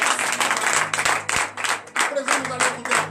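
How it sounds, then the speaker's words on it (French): A church congregation claps and cheers in acclaim during a morning prayer service, with bursts of applause rising and falling over a steady rhythmic backing, voices calling out among the clapping. "Donnez de vive acclamation à notre Seigneur."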